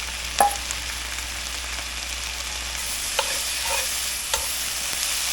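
Onion sautéing in a hot pan, a steady close sizzle with a few sharp clicks and pops, as if from a spatula or utensil, and no voices.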